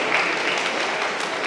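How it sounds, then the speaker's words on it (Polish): A hall full of people at a Polish secondary school's National Education Day ceremony claps for an honored teacher, a steady hiss of dense applause that stays even and fairly loud for a brief moment. "Wielkie brawa."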